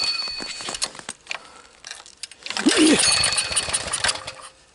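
A cold Harbor Freight generator engine, primed with starting fluid sprayed into the carb, sputters and catches after a few quiet clicks and rattles, then roars up briefly loud and close before fading.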